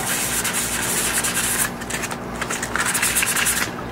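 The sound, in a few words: sanding with sandpaper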